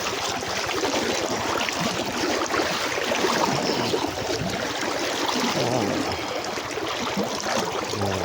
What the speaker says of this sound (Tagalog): Tatawid na po kami. Ayan oh, medyo malakas lang agos.